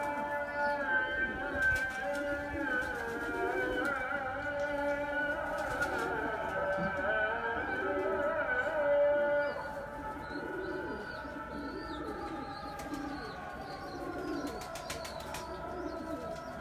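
Pigeons in a coop of about twenty-one or twenty-two birds coo steadily and continuously, layered throaty calls overlapping at close range with no talk over them.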